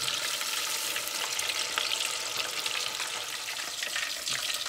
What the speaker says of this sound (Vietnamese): khi mình bỏ vào đây mình chiên thấy không nó không bể